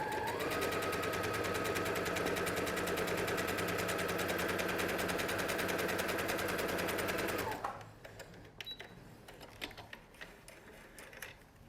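A sewing machine stitches a pocket face mask in one fast, steady run of rapid needle strokes for about seven seconds, then stops, leaving faint handling clicks and rustles.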